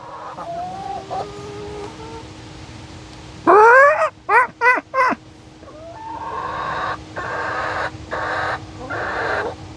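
Hens in a backyard flock cluck and squawk: a few soft calls at first, then a loud run of sharp, rising squawks midway, followed by steadier, quieter clucking to the end, with no talk.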